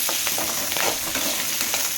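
Green chillies sizzle and crackle in hot oil while being stirred for atukula mixture, a steady close frying hiss broken by brief scraping stirs and pops, with no voices.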